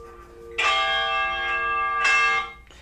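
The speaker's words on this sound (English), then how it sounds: "There goes the bell" A ringing bell before a horse race, two loud clanging strokes with a bright sustained metallic ring that lingers between them, heard alone.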